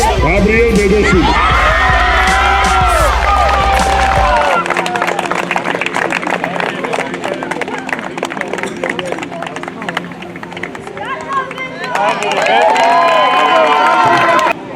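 Applause and cheering at a football awards ceremony in Georgia, loud clapping and crowd noise that fades into scattered claps, then swells again near the end, with speech over it.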